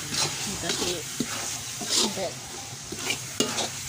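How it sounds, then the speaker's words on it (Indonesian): Spice paste for a tumpeng side dish sizzles and is stirred in a wok, close up, with scraping strokes of the spatula and brief clacks against the pan while someone talks briefly. "Ini nggak saya kukus, tapi saya gongso di wajan ya."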